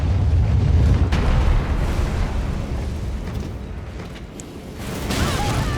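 A cannon-firing enemy in the video game Elden Ring Shadow of the Erdtree lets off a heavy blast, followed by a loud, sustained booming rumble that slowly fades and then swells again.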